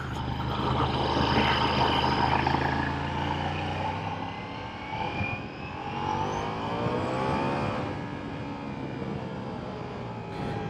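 A Ducati Diavel V4 2023 motorcycle engine roars and accelerates through rising revs, loud and close, with a rough, throaty tone that climbs repeatedly.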